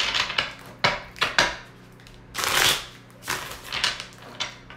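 Tarot cards are shuffled by hand in short bursts, several crisp riffling and slapping sounds of varying length separated by brief pauses, close and moderately loud with no talking.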